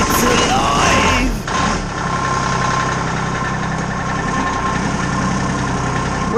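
A lawn sweeper's small engine idling steadily at low RPM, a loud, even rumble held throughout after a brief louder burst at the start.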